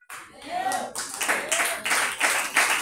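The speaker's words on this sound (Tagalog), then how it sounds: "Yung iba ay pumalakpak, pero yung iba pumapalakpak yan." A church congregation at an anniversary service claps in a brief, uneven patter of hands that mixes with a preacher's voice and shifting crowd noise.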